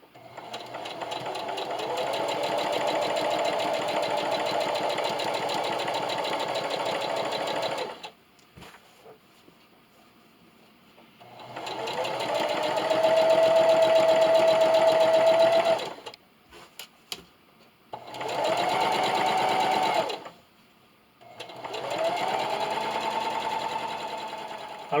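A sewing machine stitches fabric for a Christmas stocking in several bursts, a fast, even whirring hum that stops and starts with short pauses between runs, slowing through a curve.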